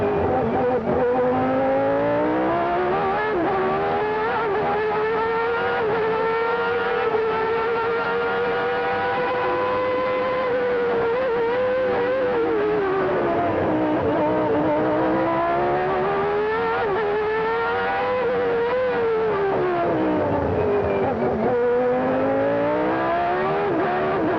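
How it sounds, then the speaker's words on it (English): A 1989 Formula 1 race car engine heard onboard at the Spanish Grand Prix, a loud continuous high-revving scream that rises and falls through gear changes for the whole stretch. "Let's go back aboard now with our race leader, Ayrton Senna."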